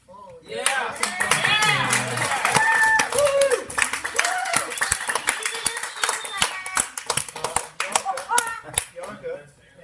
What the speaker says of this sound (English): I want to give Bianca a hand clap.